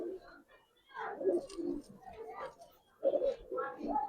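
Giribaz pigeons cooing up close: several soft, throaty coos in short bursts with pauses between them, fairly quiet, mixed with some low voices.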